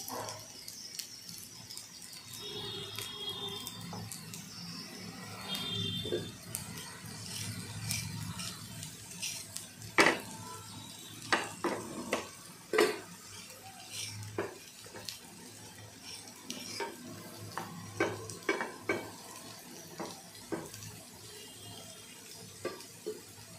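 Cabbage bhanole frying in oil in a pan, a soft, steady sizzle under intermittent clinks and scrapes of a utensil against the pan.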